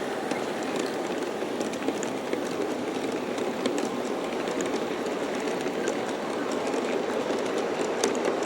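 A 1:29 G scale model Rio Grande (D&RGW) train rolls down a grade continuously, a steady rumble with light clicking of wheels over rail joints and no voices.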